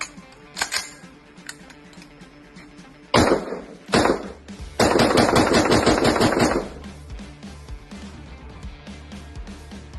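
Rapid semi-automatic shots ring out from a Radical Firearms AR-15 rifle, made in Texas, at an outdoor shooting range, coming as scattered cracks, a quick cluster and then a sustained, dense string of fire, loud and close.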